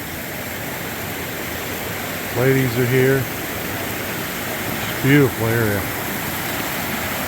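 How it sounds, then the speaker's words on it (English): Raging river water rushes in a steady, loud, broadband roar near the Smoky Mountains, unbroken from start to finish, with a person talking briefly over it twice. "Raging water."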